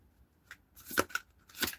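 Brisk riffling and slapping of tarot cards in several quick bursts, close and fairly quiet, with no voices.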